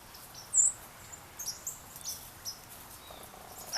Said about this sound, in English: I'm out here with my birds.